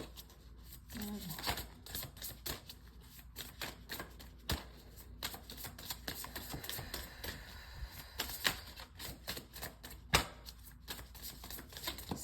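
Tarot cards are shuffled by hand, giving soft, rapid riffling and clicking bursts that repeat irregularly and quietly against a faint background hum.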